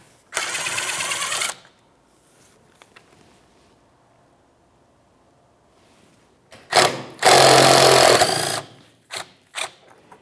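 Two bursts of a power tool spinning out 10mm mounting bolts from a plastic panel on a 2012-2018 Nissan Altima, loud and close, separated by quiet handling and followed by short clicks.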